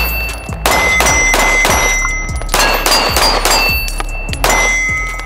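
A Springfield Prodigy 1911 DS pistol fires a steady string of about eight sharp, loud shots at an outdoor range, each crack followed by a metallic ring.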